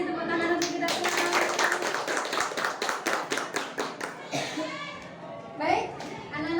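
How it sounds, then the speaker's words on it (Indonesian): A classroom of children claps together in a quick, steady burst of many sharp hand claps, loud and close, tapering off into scattered claps and murmuring voices. "tepuk tangan untuk kita semua"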